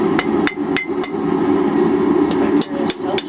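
A hammer strikes hot forged steel to straighten a hanging hook, ringing out about ten sharp metallic blows in an uneven rhythm over a steady background hum.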